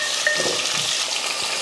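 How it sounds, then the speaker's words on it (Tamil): Peeled, round-sliced radish and onion sauté in a pan, giving a brief, dense, even crackling sizzle at close range, with no one speaking. "நல்லா தோலெல்லாம் சீவிட்டு நல்லா ரவுண்டாக வெட்டி போட்டு வதக்கி விட்ருவோம்."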